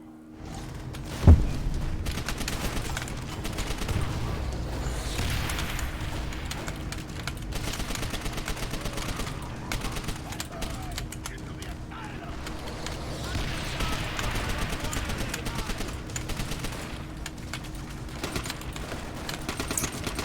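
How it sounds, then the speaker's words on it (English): Gunfire in the shooter Call of Duty: World at War: one sharp hit near the start, then sustained dense battle noise of overlapping shots and rumble, with voices mixed in. "who is shooting at me?"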